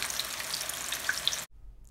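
Steady crackling sizzle of sweet potato hash browns frying in a pan, with small pops, stopping abruptly near the end.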